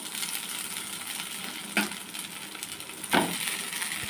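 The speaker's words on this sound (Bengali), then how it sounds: "চাউমিন দিয়ে ভালো করে নেড়ে ছেড়ে নেব" Chow mein noodles stir-fried in a hot pan with fried dry chillies and green chilli for egg chow mein: a steady sizzle, broken by two brief scraping clanks of the spatula, with no talk.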